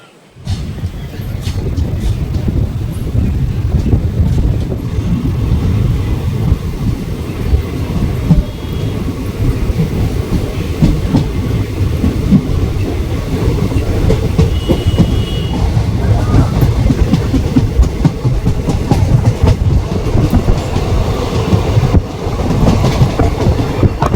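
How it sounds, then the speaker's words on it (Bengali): Bhagirathi Express pulling out of Kashim Bazar station, a steady loud rumble with rhythmic clickety-clack of wheels on rails continuing throughout, with brief squeals and a voice faintly under the noise. "কাশিম বাজার স্টেশন থেকে এখন ট্রেন ছেড়ে দিল বন্ধুরা।"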